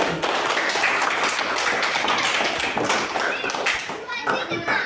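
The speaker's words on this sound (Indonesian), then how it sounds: "Nah, tepuk tangan dulu untuk kelompok 1." A classroom of children claps for group 1, a brisk burst of many small hands that stays loud for several seconds with children's voices mixed in.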